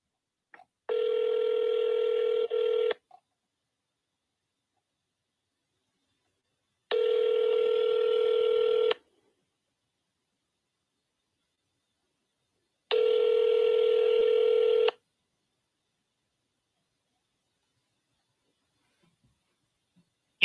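A telephone call rings out before reaching voicemail, three long even ring tones about six seconds apart, clear and moderately loud over near silence, followed by a faint click at the end.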